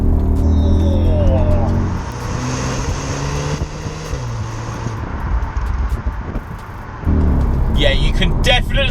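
Audi SQ2 with a stage 1 map accelerating hard in second gear, the engine note rising and droning loudly from inside the cabin, easing off briefly and then surging again near the end, with someone talking.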